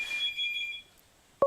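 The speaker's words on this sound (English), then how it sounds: "The phone is ringing." A telephone rings on a collect call from prison, a bright electronic trill pulsing for under a second, then silence and a short tone.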